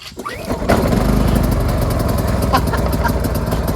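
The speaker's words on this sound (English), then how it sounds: "First pull, fantastic. So it's running on choke right now." A PowerSmart portable gasoline generator, a 2500W–4500W model, catches on the first pull with a brief cranking rattle, then settles into a loud, steady engine drone on choke, up close and with no talk over it.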